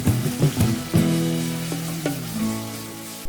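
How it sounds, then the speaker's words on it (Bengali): Onion paste frying in hot oil with bay leaf, cinnamon, dried chili and cardamom for a Bengali prawn malai curry, a close steady sizzle broken by several scraping stirs, no talking. "এবার পেঁয়াজটাকে ভালোভাবে কষিয়ে নিচ্ছি।"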